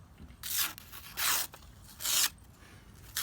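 Four short crisp slicing strokes of a freshly sharpened stiletto knife, each a bright rasping cut separated by brief pauses, close and clear with no talking.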